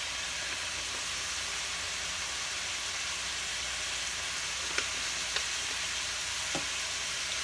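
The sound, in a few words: meat sauce frying with vegetables in a pan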